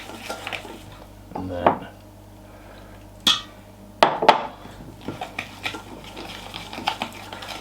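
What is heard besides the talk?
mixing pancake batter with milk and egg in bowl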